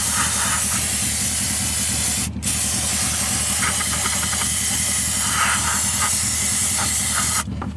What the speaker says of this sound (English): just spray your throttle body